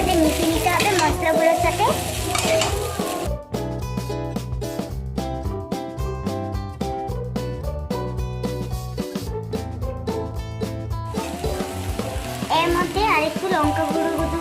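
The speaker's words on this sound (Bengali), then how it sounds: "এবার ভালো করে নেড়ে একসাথে মিশিয়ে নিতে হবে মশলাগুলোর সাথে।" A spatula stirs chow mein egg noodles with spices in a hot pan, sizzling and scraping steadily, with background music swelling over the frying through the middle stretch.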